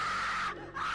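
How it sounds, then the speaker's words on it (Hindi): A strange scream comes over a phone line, a harsh, sustained, high-pitched shriek that dips briefly midway and then resumes, faint and distorted. "उसे उस फ़ोन के पीछे से अजीब सी चीखने की आवाज़ आ रही होती है"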